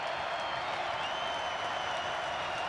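Steady roar of a college football stadium crowd at a Maryland–NC State game, a continuous wash of noise with faint applause and no distinct breaks.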